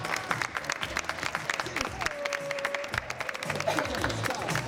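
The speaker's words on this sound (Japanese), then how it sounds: "皆さん大きな拍手お願いします。" Audience applause rings out at a Halloween costume contest held at Abeno Harukas, a sustained patter of many hands clapping, with a faint murmur of voices and a brief tonal squeal mixed in.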